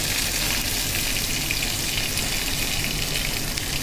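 Chopped garlic, onion, ginger and chilli fry in a hot pan, giving a steady, loud, close sizzle that stays even throughout with no talking.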